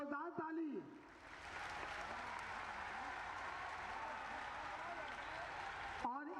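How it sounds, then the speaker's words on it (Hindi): A crowd claps loudly at a ceremony in Gorakhpur honoring high school students, a dense, sustained burst of applause for about five seconds with a voice speaking just before and after. "जोरदार ताली।"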